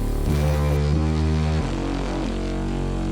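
Dense, loud music with sustained low tones; the top end is abruptly cut off by an EQ low-pass filter around 7,500 Hz less than a second in, leaving a muffled, band-limited sound.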